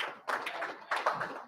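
Audience hand clapping at a national political symposium on peaceful elections, heard as bursts of applause in a fairly close room, rising in two waves.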